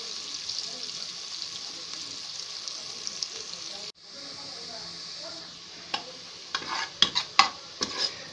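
Onions sizzling and frying in a pan, a soft continuous crackle broken by a brief pause and then sharper stirring clinks and scrapes toward the end.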